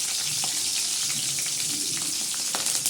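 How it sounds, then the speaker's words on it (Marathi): Green chillies with salt fry in oil, a loud continuous hiss and crackle close up, with scattered pops and faint stirring, no voices heard. "मिरच्यांना मीठ टाकून असं मस्त तळून घेत आहोत"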